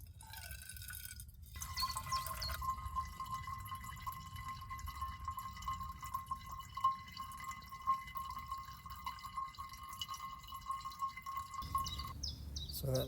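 Water drips steadily into a can while collecting foraged water at a wild camp, a rapid, fairly faint ringing patter with outdoor background noise.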